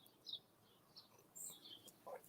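Birds chirp in a tree out in front, with faint, scattered short calls and one brief louder burst near the end over a quiet background.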